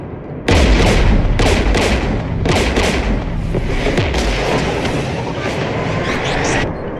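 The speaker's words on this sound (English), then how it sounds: "We're taking fire." Heavy gunfire and explosions crash in Mass Effect as Geth anti-aircraft guns fire beside a jamming tower. Loud, dense bursts of blasts and shots pound repeatedly for several seconds with no pause and no voices.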